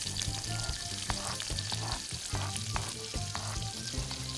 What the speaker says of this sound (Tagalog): So guys, maggisa na ta. Unahon na to ang bombay.